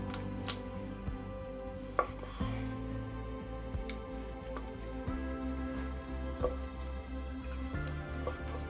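A knife chops strips of beef into smaller pieces on a cutting board for beef stroganoff, a series of close, sharp, irregular thuds over quiet kitchen background.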